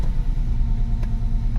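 A Porsche 996 Carrera 4 idles steadily just after a gearbox and clutch repair, a close, deep flat-six rumble with an even low throb and no talk.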